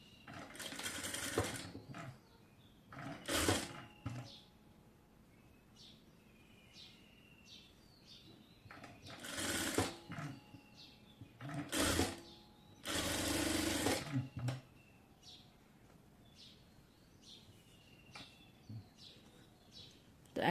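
A sewing machine stitching a designer sleeve: several runs of fast, steady mechanical whirring in short bursts separated by quiet pauses, with faint chirping birds in the background.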